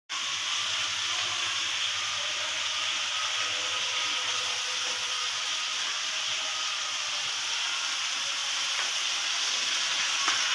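Bitter gourd fries in hot oil in a pan, giving a steady, even sizzle and hiss that continues without break from start to finish, close and clear with no talking.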